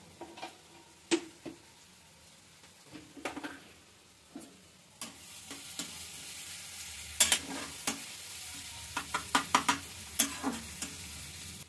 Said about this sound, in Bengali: আমরা পেঁয়াজটাকে আগে ভেজে নেব ভালো করে।